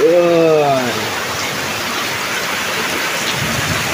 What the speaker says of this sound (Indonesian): Hujan badag.